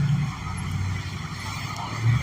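A car passes by in moderately busy street traffic, a low rumbling engine and tire noise that swells slightly at the start and end, moderately loud and fairly close, with no talking.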